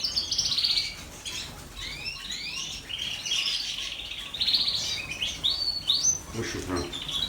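Several red factor canaries chirp and tweet continuously, bright high-pitched calls and quick trills overlapping at moderate volume with no voices.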